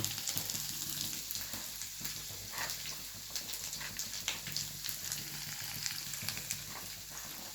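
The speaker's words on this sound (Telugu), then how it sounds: "తరిగి పెట్టుకున్న అల్లము అది పచ్చి వాసన పోయేదాకా వేయించాలి ఫ్రెండ్స్" Chopped ginger frying in oil for lemon rice, a soft continuous sizzle close by with irregular scraping and stirring knocks over it, fairly quiet with no speech.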